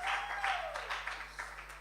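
A live-music crowd at Brewhouse Live claps for the first act in a short burst of applause opened by a high sliding whistle-like tone, fading slightly as it goes.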